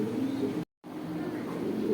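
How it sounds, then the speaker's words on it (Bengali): A female Bombay pigeon coos softly in a low, steady murmur against constant background noise, broken by a brief silent gap. "বোম্বার সিঙ্গেল একটা মাদি কবুতর আছে"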